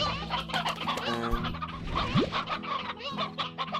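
Hen clucking in a farming video game, a run of short clucks over steady looping game music with a rising chirp partway through.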